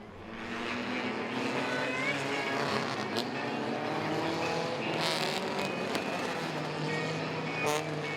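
UCAR division race cars idle and rumble together at Langley Speedway, a dense, sustained engine roar from several cars at once, with occasional sharper bursts and clatter over the continuous drone.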